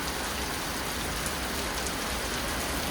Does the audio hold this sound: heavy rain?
yes